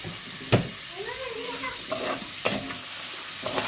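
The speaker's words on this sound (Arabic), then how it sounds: "خلي بقى اللحمه براحتها تتشوح خالص اهي، تاخد الصدمه كده" Pieces of meat sautéing in a sizzling garlic and coriander mixture for green beans, with a steady fry hiss, a sharp clatter as the meat drops in, a few utensil knocks and a voice talking over it.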